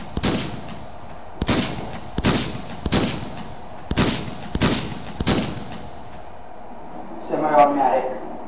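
A semi-automatic shotgun fires in the VR game Hot Dogs, Horseshoes and Hand Grenades, with eight loud, sharp booms in a fairly even rhythm. A brief metallic handling sound comes after the shots.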